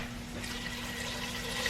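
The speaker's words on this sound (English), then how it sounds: "We're going to add some water to this." Water pours steadily into an Instant Pot holding cranberries, a continuous even splashing rush lasting the whole stretch, close and fairly loud with no talking.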